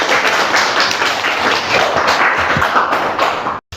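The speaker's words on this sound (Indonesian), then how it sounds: "Beri tepuk tangan untuk Rafli" Classroom applause for a student, a dense stretch of many hands clapping steadily at close range for several seconds, then cutting off abruptly at the end.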